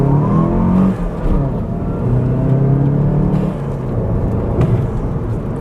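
A VW Golf MK7 engine revs hard and climbs through the gears, a loud, steady, close drone with pitch rising, a brief dip at a shift, then pulling again with no talk over it.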